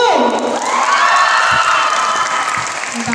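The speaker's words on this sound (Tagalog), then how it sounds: "Palakpak. Para sa ating contestant number 2." A crowd cheers and shouts loudly with clapping for a contestant, children's high voices whooping over steady applause throughout.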